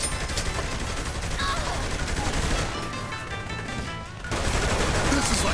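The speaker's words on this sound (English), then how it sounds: "This is really amazing shooting." Heavy, sustained gunfire in the action game Saints Row: The Third, with rapid automatic bursts blending into a loud, continuous barrage and speech mixed in.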